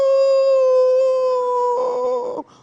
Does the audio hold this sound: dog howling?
yes